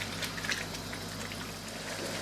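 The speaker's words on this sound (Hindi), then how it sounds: "अब आप इसमें ऐड करेंगे पानी" Water poured into chicken masala in a pan for Patiala boneless chicken, a brief soft splashing and bubbling of liquid hitting the hot gravy, fairly quiet with no talk.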